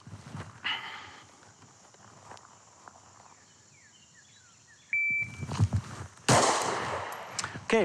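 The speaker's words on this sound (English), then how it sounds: "I'll draw and fire at that target with the gun carried the way it's supposed to be" A Springfield XDS Mod 2 pistol, drawn from carry with a round chambered, fires a quick burst of sharp shots near the end after a quiet stretch with soft shuffling and a beep.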